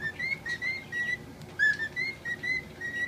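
A pet bird whistles and sings indoors, repeating clear high whistled notes in short phrases with small pauses, close to the microphone and with no talk over it.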